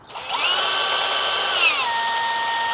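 A DeWalt power drill whines at high speed, its pitch dropping as it bites into metal and slows, a close, steady mechanical tone.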